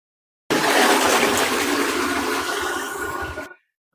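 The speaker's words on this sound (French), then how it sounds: "Je t'avais tiré chasse d'eau là" A loud toilet flush roars close up for about three seconds, then tapers off quickly into silence.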